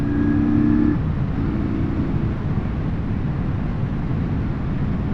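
A Kawasaki VN900 Custom motorcycle accelerates from about 30 to 60 while being ridden, a steady, loud engine drone with heavy low rumble and rushing wind noise throughout, a brief tonal hum fading after the first second.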